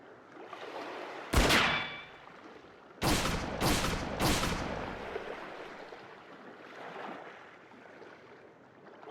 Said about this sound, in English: Are these gunshots? Someone's fighting nearby.